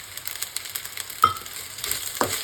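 Prawn head gravy with chili powder and tomato is stirred in a pan. A quiet sizzle runs under a few soft spoon scrapes and taps at close range.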